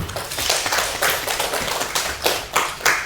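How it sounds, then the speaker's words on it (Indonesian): Audience applause at a school culture dissemination event, steady continuous clapping from many hands, moderately loud and close, with no talk over it. "mari kita berikan aplaus terlebih dahulu"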